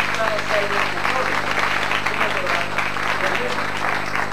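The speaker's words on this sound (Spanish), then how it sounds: "El aplauso generoso para María Angélica Salmentón." Applause from an audience at a school poetry contest, greeting a participant. Dense, steady clapping fills the whole stretch, with some crowd murmur mixed in.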